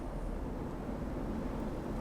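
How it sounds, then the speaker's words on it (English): Steady roar of typhoon wind and driving rain against a home in Tokyo during Super Typhoon Hagibis, a constant broad rushing noise heard from indoors with no clear gusts or breaks. "that is the sound of the wind and the rain hitting."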